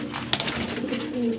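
Soft pigeon cooing close by from breeder pigeons in Faisalabad, a low murmuring call repeated over a faint background hum.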